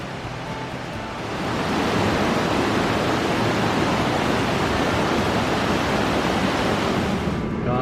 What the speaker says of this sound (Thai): นี่น้ำตกมันไหลลงมาจากบนเขานะคะ น้ำใสไหลเย็น